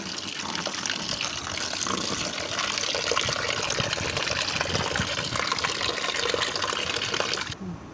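Steady running water gushing from a tap while fish is washed, a loud continuous broadband rush lasting throughout and cutting off abruptly near the end, with no voices.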